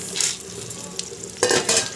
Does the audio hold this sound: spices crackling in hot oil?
yes